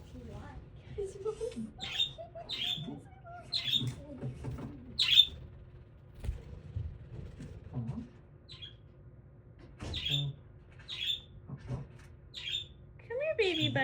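A young budgie gives repeated sharp, high chirps in small bursts at close range, with pauses between them, while a person talks softly nearby.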